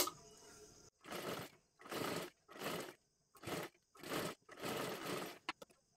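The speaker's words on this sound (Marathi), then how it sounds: "आता इथे आपल्याला डबल शिलाई मारून घ्यायची आहे" A sewing machine stitches a double seam on a garment made from saree fabric in about seven short, evenly spaced bursts, close and distinct, with quiet gaps between them.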